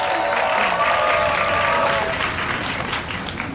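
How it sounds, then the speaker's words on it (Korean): An audience in a cinema applauds as the director and actors of a drama series are welcomed, thick steady clapping with a brief cheer, easing slightly toward the end. "큰 박수 부탁드릴게요."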